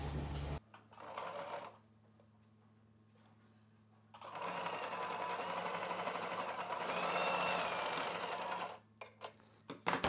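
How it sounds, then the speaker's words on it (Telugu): A sewing machine stitching a folded fabric edge for a hair scrunchie, a short burst of rapid mechanical stitching, a quiet pause, then a long steady run of close, loud stitching ending in a few stop-start bursts. "ఇలా ఒక చివరన అంచుని ఫోల్డ్ చేసి కుట్టిన తర్వాత ఇదే విధంగా రెండవ చివరన అంచుని ఫోల్డ్ చేసి కుట్టు వేసేసుకోవాలి"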